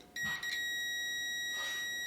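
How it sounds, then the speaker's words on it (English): A steady high electronic tone from a continuity tester on a clothes dryer's thermal fuse, holding continuously at moderate volume after a brief click, with faint handling noise. "If it beeps, it's good."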